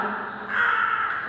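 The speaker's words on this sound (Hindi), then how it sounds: "इंसान तो इंसान कौवे भी आप लोगों की क्लास में पढ़ने आने लगे।" Crow cawing near a classroom, one drawn-out harsh caw that swells midway, fairly close and clear with no voices over it.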